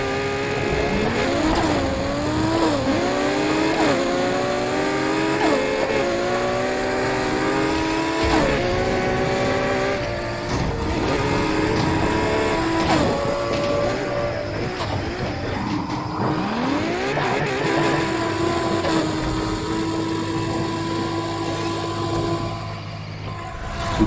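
A race car in Need for Speed Heat roars at full throttle with nitrous, its engine pitch climbing through repeated gear shifts and falling briefly, loud and continuous throughout with no talk.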